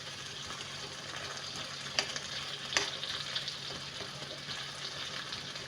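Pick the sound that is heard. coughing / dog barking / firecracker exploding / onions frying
onions frying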